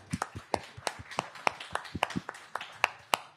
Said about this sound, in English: That's a much better round of applause